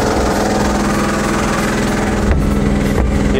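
A Honda-clone 6.5 hp engine belt-drives a 12 V alternator under load, giving a steady, loud, close mechanical drone with a brief dip and lurch in engine note as the load bites.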